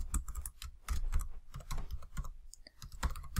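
Fingers tap quickly on a computer keyboard, producing a dense, close stream of irregular plastic key clicks and thumps with no pause.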